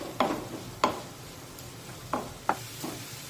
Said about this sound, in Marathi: मध्यम आचेवर हा कांदा मी छानपैकी मऊ होईपर्यंत शिजून घेतलेला आहे